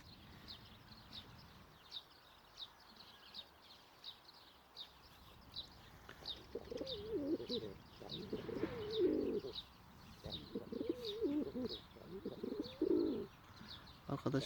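A bird sings in a repeating, high chirping pattern throughout, with pigeon-like cooing joining in the second half, fairly close and continuous.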